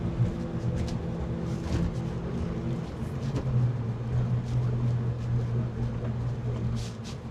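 A Mazda MX-5 is driven on a road, heard from inside as a steady low engine drone with road rumble and faint intermittent rattles, moderately quiet and continuous, with no talk.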